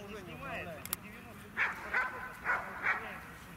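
Dogs barking at a dog competition in Biysk, a few sharp barks and yips heard at a moderate distance, with a low murmur of background talk underneath.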